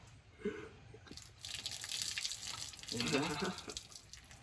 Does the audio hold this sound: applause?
no